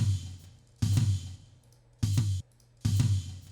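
Drum hits in three loud bursts with a short, sparkling one-second room reverb tail, each burst punchy with strong low thump and bright cymbal wash, separated by brief near-silent gaps.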